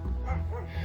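A dog off its leash in a park gives a short close bark-like yip that briefly rises into a whimpering tone.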